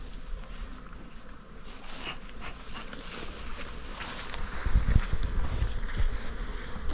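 Honeybees buzz around a hive while colonies are merged outdoors, a steady faint hum with soft rustling and handling bumps growing slightly louder toward the end.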